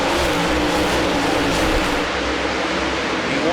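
Late model race cars roar around Nodak Speedway in a World of Outlaws race, a dense, continuous engine drone from a pack of cars at close range with no break in the noise.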